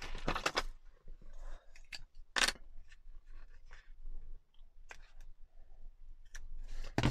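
Small scissors snip waxed thread while a junk journal closure is being tied, giving a few sharp, close clicks separated by quiet handling rustles.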